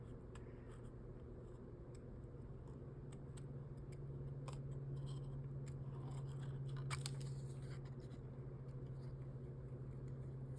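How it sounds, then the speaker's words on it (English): Scissors closing steadily while a sheet of paper is turned, cutting out a craft piece for a mini junk journal, with faint repeated snips over a low constant hum. "closing the scissors at the same speed that you're turning the paper."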